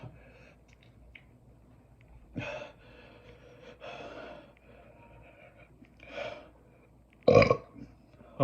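A burp after eating an extremely spicy chip in the one chip challenge, with gasping breaths and short exhalations spread across the moment and a sharp, loud belch near the end.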